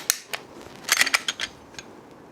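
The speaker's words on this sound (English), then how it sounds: "make sure that it locks the slide open when there's an empty magazine inserted and the slide is pulled to the rear" CZ P-10 pistol handled on an empty magazine, a series of sharp metallic clicks and snaps as the slide is pulled back and locks open, close and crisp with no speech.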